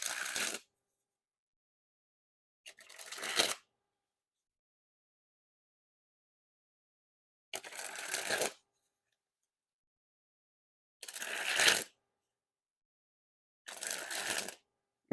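Theory11 Sentinels playing cards are sprung from hand to hand in five short, crisp riffling bursts, each about a second long, separated by silence.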